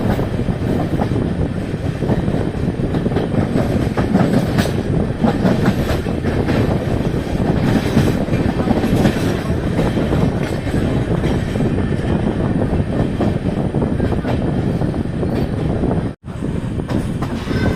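Amrit Bharat Express passenger train running on rails, a loud, steady rumble of wheels with faint clickety-clack and occasional squeal, heard continuously from inside the moving train with no talk.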